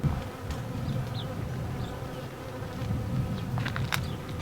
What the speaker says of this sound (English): there are bees all over the place